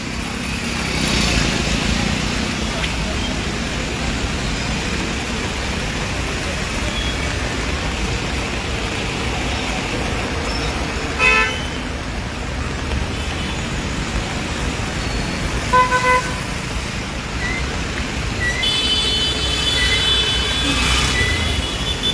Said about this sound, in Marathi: पळयात काही सरकारी गाडी सुद्दां आमकां दिश्टी पडटात ज्यो ट्रॅफिकान ब्लॉक जाल्ले आसात